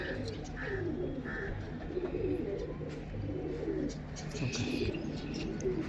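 Pigeons kept for sale coo softly and steadily in low murmurs, with occasional faint chirps and a voice talking nearby.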